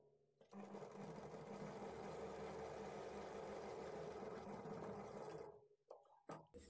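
A sewing machine stitches a blouse lining in one long, steady, close run of about five seconds, then halts, followed by a few brief handling knocks.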